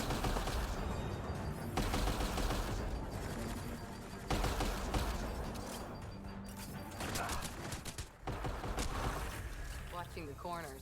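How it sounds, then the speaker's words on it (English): Enemy gunfire in a video game shooting at the player, dense rapid rattling bursts filling most of the stretch, loud and close, with someone talking over it. "please stop shooting me"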